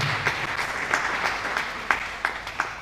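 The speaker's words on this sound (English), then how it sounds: "these people deserve another round of applause together with a standing ovation" Audience applause and a standing ovation at an AIDS candlelight memorial, a steady dense wash of clapping from a crowd with a few sharper individual claps standing out, moderately loud and without talk.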